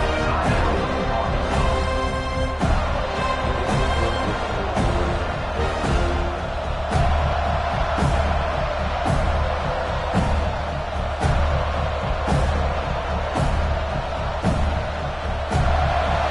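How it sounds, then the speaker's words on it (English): A football stadium crowd at an Arkansas versus FSU game roars continuously, with rhythmic stomps or claps punctuating the loud sustained cheering throughout, no announcer talk audible. "They challenge this crowd to bring the energy, and I'd say they're doing that."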